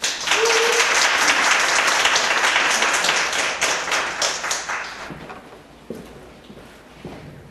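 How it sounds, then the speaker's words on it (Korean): Audience clapping to welcome a presenter at an academic seminar, loud at first and then thinning into scattered individual claps and a few thumps as it fades. "나오실 때 박수로 맞아 주시기 바랍니다"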